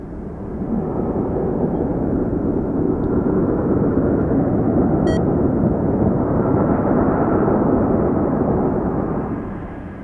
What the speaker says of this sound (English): We have an MD-83 landing on runway 33.